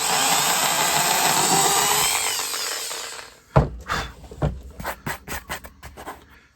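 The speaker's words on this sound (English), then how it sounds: "I'm gonna drill a little hole here just to see how these things fit" A power drill with a small bit whines continuously for about three seconds while drilling a small hole in a pumpkin decorating kit piece, then a series of short, sharp knocks and rattles follow.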